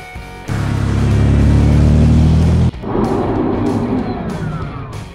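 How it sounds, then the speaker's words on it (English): A glass truck's engine drones loudly and steadily up close, then drops into a rougher, noisier rumble with scattered clanks as it moves off; no voices. "Glass truck."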